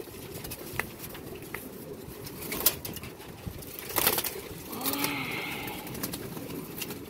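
Pigeon flapping its wings in short bursts with a few coos and a brief tonal sweep, close against a constant outdoor hiss, no one talking.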